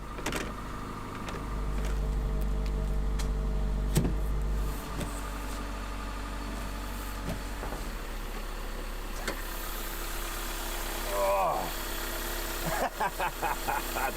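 A broken Toyota Corolla engine idling, a steady low hum and vibration that drops in level partway through, with scattered clicks and knocks and a short rattle near the end.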